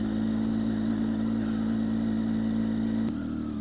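A close, steady Triumph Tiger 800 motorcycle engine hums at a constant pace while riding off-road on a track, then shifts slightly near the end.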